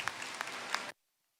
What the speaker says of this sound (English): Let's give all our champions and reserve champions a round of applause.